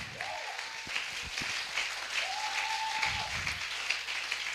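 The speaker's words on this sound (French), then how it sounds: "Je veux entendre les acclamations" A church congregation cheers and applauds together, producing steady, dense clapping with a few rising vocal cheers over it, loud and sustained throughout.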